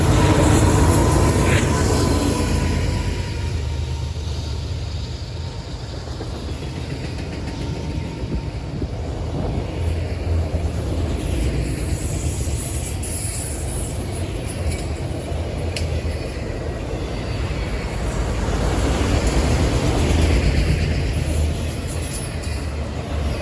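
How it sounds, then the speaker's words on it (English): A daily mixed freight train heading from Selkirk, New York to Cincinnati rumbles past at moderate distance, a continuous low roar of wheels and cars with faint clatter that holds steady throughout. "M561 is daily mixed freight out of Selkirk, New York, and heads to Cincinnati"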